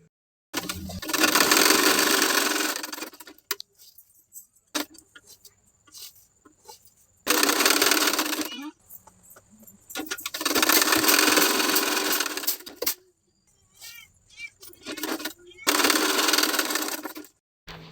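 A sewing machine stitches lining onto a blouse sleeve, running in several loud bursts of a few seconds each, with quiet pauses between runs.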